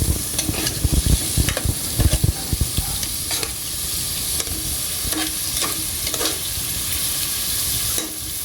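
Shrimp go into a pot of cooking seafood soup with a few quick clattering splashes and stirs, then a steady, loud bubbling sizzle carries on alone.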